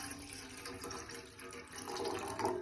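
Water pours from a tap into a cooking pot for soya chunks, a steady close running splash that grows slightly fuller toward the end, with no talk.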